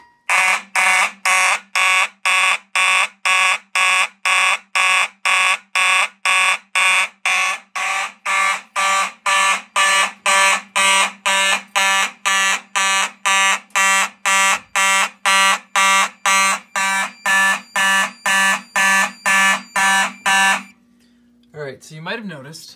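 Simplex mechanical fire alarm horns blare in march time in a home system test, loud harsh pulses in a fast steady rhythm for about twenty seconds, then stop.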